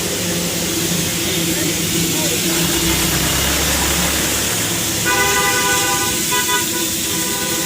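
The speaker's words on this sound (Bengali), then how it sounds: "ছোট টয় ট্রেন চলে দার্জিলিংয়ের স্টেশনে" Darjeeling toy train steam engine at the station, a steady steam hiss and engine rumble with a sustained toot in the latter part, under crowd noise and voices.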